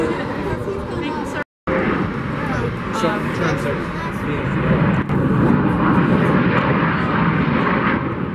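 A fixed-wing airplane on the main runway at Raleigh-Durham (RDU) airport, its steady engine roar filling the air at close range under a faint murmur of people nearby.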